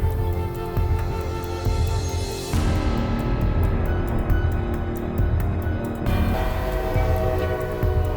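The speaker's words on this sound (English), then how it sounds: "A truck driver in Ohio escaped seconds before a train demolished his cabin." Freight train striking a truck cab at an Ohio railroad crossing after the gate comes down on the cab, a continuous heavy roar of rail wheels and grinding metal with a horn-like tone rising midway, loud and close throughout.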